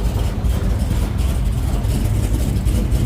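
A 1968 Dodge Charger V8 with an aluminum exhaust runs at a steady idle on its first start, giving a loud, continuous low rumble with no talk over it.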